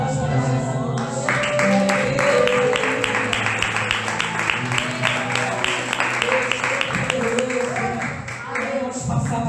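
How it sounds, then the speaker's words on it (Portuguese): Congregation clapping for Jesus during a Portuguese-language evangelical worship service, rhythmic hand claps over a sustained musical backdrop with voices, steady throughout. "As palmas para Jesus."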